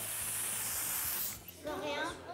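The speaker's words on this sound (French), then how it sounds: "je vais mettre vers vous, et je vais faire un petit spray" A home fragrance spray gives a steady airy hiss for over a second, then short softer bursts follow, close by with faint background murmur.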